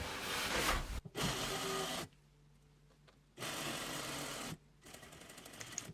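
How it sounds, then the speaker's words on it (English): Sewing machine stitching the side seams of a fabric apron, front and back pieces joined right sides together, running in two loud steady bursts separated by a quiet pause with faint handling sounds, no talking. "I'm going to sew up each side seam."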